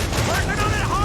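Sailing-ship cannons boom in Assassin's Creed IV: Black Flag, a dense burst of heavy blasts layered with a voice shouting over the gunfire.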